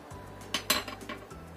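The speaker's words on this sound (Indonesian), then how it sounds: "ini kita aduk sebentar ya biar tercampur" A utensil clinks and scrapes against a pan while leftover rice with spices is stirred, a few brief metallic knocks over a low steady hum, close and fairly quiet.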